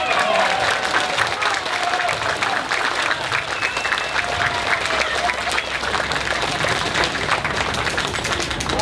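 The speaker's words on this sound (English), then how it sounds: "Applause for her, okay?" Crowd at an outdoor protest rally over CPF savings and public housing applauds a protester, dense steady clapping close by for about nine seconds, with some voices and scattered cheers mixed in.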